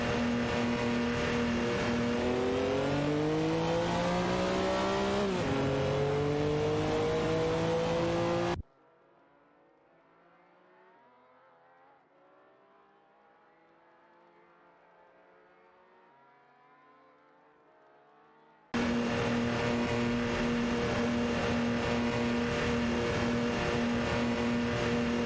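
Engines of a Lamborghini Diablo and a McLaren F1 GT in a video game race drone and rise through gears, loud and close, cutting to near silence midway before the engine roar returns.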